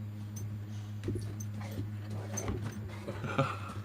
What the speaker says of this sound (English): When he needs to go outside, he says the word out.